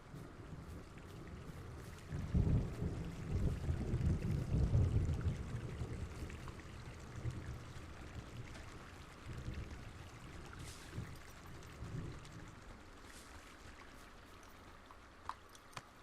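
Steady rain wash in a video game storm, with broad low rumbling swells like distant thunder in the first seconds, easing to a constant hiss and patter; no voices.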